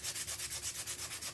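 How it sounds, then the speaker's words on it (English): A Gator sander lightly sanding painted white wood to distress it makes a close, rhythmic rasping scrub with about a dozen even back-and-forth strokes and no talking. "So do you see how I'm lightly sanding and it's distressing it?"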